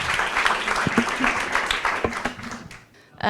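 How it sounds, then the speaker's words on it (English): Brief burst of audience applause for panelists at an agrifood industry event, dense clapping for a few seconds that thins out, then a sharp sound at the very end. "A quick round of applause for the esteemed panelists, and thank you very much."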